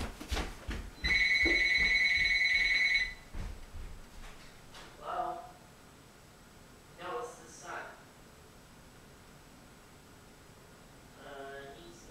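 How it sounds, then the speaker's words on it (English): A telephone bell rings loudly on a game-show set for about two seconds near the start, then gives way to quieter scattered voices and small handling noises. "And the phone's ringing."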